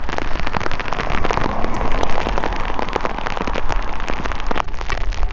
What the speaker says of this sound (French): La pluie, elle, est toujours là.